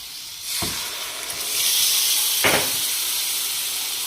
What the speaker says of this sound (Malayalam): നമുക്ക് പുളിവെള്ളം ചേർക്കാം.